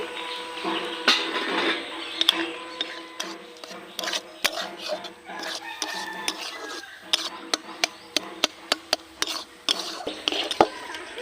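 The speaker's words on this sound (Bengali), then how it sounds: "বন্ধুরা সুজির সঙ্গে আলুটা নাড়তে নাড়তে আমার পাক হয়ে গেছে" Boiled potato and semolina are stirred in a pan, with repeated sharp scraping clicks and knocks of a utensil against the pan over a soft background, irregular and close.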